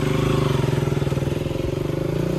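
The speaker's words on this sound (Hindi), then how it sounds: "ये रही हमारी बाइक और अभी हम यहाँ से निकलते हैं।" A motorbike engine runs steadily up close, a loud, even throb with a rapid pulsing rhythm throughout as the bike pulls away, with no voices over it.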